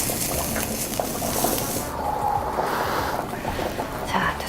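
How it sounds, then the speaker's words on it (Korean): Broth bubbles at a steady rolling boil for fish dumplings, a continuous close, loud churning and gurgling with no pauses, while meat sizzles in a pan. "육수 끓는 소리랑 고기 볶는 소리랑 음악 같지 않습니까?"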